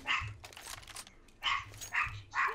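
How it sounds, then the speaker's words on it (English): A dog barks in short repeated bursts close to a microphone while people play an online shooter game, with game noise in between the barks. "No, stop barking."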